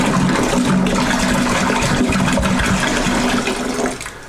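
Apple juice pours in a steady, loud, close stream into a pot, splashing and gurgling continuously before tapering off at the end.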